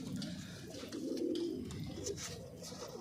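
A pair of pigeons offered for sale coo softly and repeatedly in low, throaty rolls, faint and close, with light background noise.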